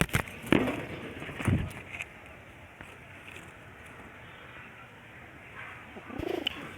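Racer and homer pigeons coo in a few soft, low bursts at a moderate distance, separated by quiet stretches with faint background noise.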